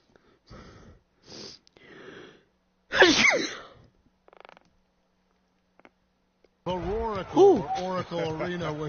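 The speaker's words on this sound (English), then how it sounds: "Hold on, I gotta sneeze." A man sneezes loudly once during an NBA 2K16 game broadcast, preceded by a few sniffs and quick breaths. Then comes a stretch of near silence, and afterward recorded commentary talk.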